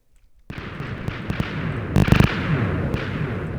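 A TNT cannon fires in Minecraft: a sharp cluster of blasts near the middle, set against a steady rumbling background, with smaller pops and clicks before and after.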